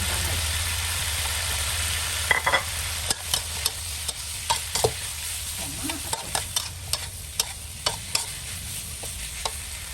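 Holy basil stir-fried in a hot pan for a spicy Thai kaprao dish, with a steady close sizzle and a run of sharp spatula scrapes and clacks against the pan.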